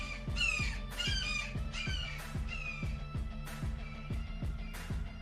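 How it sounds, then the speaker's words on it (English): A loud, piercing raptor call rings out repeatedly close by in a workshop setting, harsh squawking cries that fall over steady low machine hum and tonal thumps. "Did you guys hear the hawk?"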